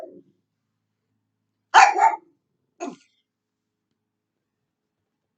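Two short, sharp dog barks ring out close by and separated by about a second of silence, with a faint murmur just before them.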